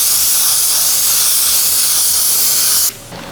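Spray gun laying down a light coat of Glasurit UV primer, a steady loud hiss of atomized spray running for about three seconds before cutting off abruptly.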